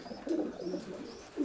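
Long distance racing pigeons coo softly inside a loft section with secluded nest boxes and grilled floors, a few low rolling coos close by and fairly quiet.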